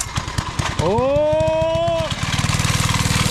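A small mini bike engine idles in a steady low putter, then revs up briefly into a rising whine and settles back to a quick, even chugging idle, with a voice exclaiming once over it.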